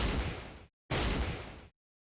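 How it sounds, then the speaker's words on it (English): Two loud, booming blasts from the video game Fate/Grand Order, each about three quarters of a second long and separated by a short silence, heard up close. "What, that sounded like a gunshot!"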